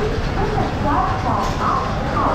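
A train arriving at Howrah station gives a steady, loud rumble of rolling wagons that fills the whole stretch, with no clear clatter or horn standing out.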